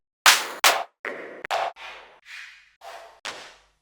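A run of eight layered clap samples from a Queen of Pentacles module, three layers stacked center, right and left, each a bright noisy burst, some sharp and some softer and breathier, spaced in an irregular rhythm and heard alone.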